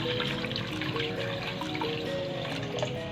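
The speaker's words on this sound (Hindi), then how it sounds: "अब हम इसमें पानी डालेंगे" Water pours steadily into a cooking pot of beef paya for broth, a continuous splashing trickle that stays at an even level throughout.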